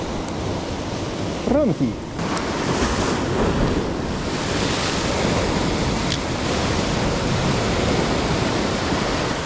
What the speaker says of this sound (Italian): Il mare ancora spinge forte